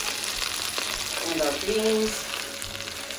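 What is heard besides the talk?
oven-fried chicken sizzling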